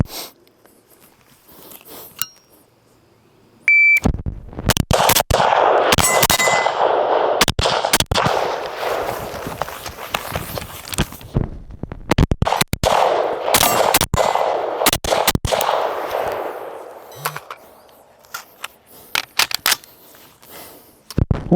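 Carbine gunshots ring out at a range, each sharp crack followed by the clang of bullets striking steel targets, fired in quick pairs across a string of targets with short pauses between groups.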